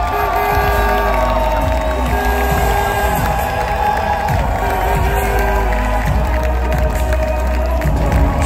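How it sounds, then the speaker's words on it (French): A large crowd cheers and applauds for sailor Charlie Dalin at a Vendée Globe trophy celebration, a loud, continuous wall of clapping, shouts and whoops with music-like tones underneath, sustained without pause. "Il va monter sur scène sous vos applaudissements et les applaudissements de tous et toutes celles qui l'ont soutenu depuis le début"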